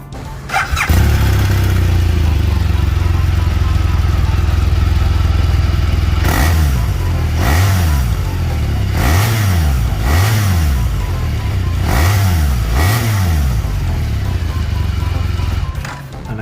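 A 2015 BMW R1200GSA motorcycle with lowered suspension starts up close by, settles into a steady idle, then is revved in a series of sharp, rising throttle blips spaced about a second apart.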